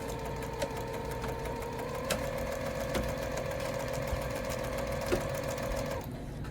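A sewing machine stitches a pillow seam, running in one continuous, steady whir with a faint mechanical tick for about six seconds before stopping.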